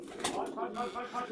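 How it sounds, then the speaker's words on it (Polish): Racing pigeons coo in a loft, a soft layered murmur of repeated throaty calls from several birds, moderately close and continuous through the short moment. "I 2 następne są gołębie."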